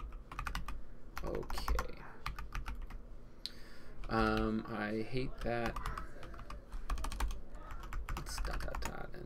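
Computer keyboard typing during a Python and Django coding session: rapid, steady clicking of keys throughout, with a person briefly talking partway through.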